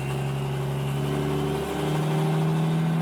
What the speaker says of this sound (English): it almost sounds like like a lifter or maybe a push rod is bent